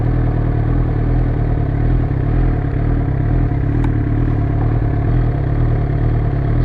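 A motorcycle engine idles steadily in first gear while the rider walks it out, a continuous low rumble heard close up with a faint clatter and no talk.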